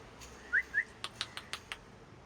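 A pet parrot at a house in the Konkan gives two quick, bright whistled calls, then a short run of sharp clicks, close by against a quiet background.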